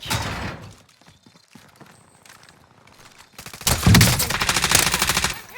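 Rapid gunfire from Call of Duty Warzone, a loud dense burst of shots in the second half after quieter game noise, with a few scattered earlier sounds.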